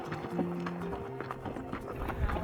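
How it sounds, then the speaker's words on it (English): Horse hooves clip-clopping at a steady walking rhythm during a horse trek toward Son-Kul lake in Kyrgyzstan, close and moderately loud over faint outdoor background. "today we have like 3 hours horse riding until the next place"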